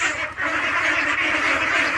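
Dense, close flock of ducks quacking nonstop at a small duck farm of 50-day-old ducks, the overlapping calls steady and loud throughout with no talk.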